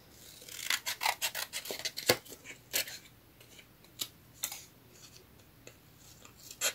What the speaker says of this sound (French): Je vais couper ça.